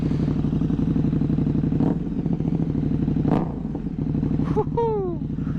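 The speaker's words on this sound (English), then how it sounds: "I fucking love this bike." Motorcycle riding on the freeway, with a constant loud engine drone and wind rush close to the rider, occasional clattering bumps, and a brief rising whistle-like tone near the end.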